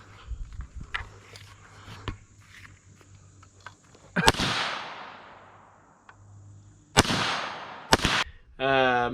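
Rifle fire from an AUG and an AR-15 at an outdoor shooting session, a few sharp loud cracks with long echoing decay, separated by quieter stretches with faint ticks and movement.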